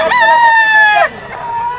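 A yellow-legged gold stag rooster crows once, loud and close, its strained call held about a second before cutting off, with faint market chatter after.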